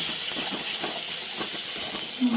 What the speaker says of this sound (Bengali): এবার নুন হলুদ দিয়ে আবার কিছুক্ষণ ভেজে নেব